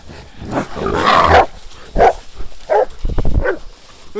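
Several dogs bark loudly in short bursts, with sharp yips, while a person calls out over them.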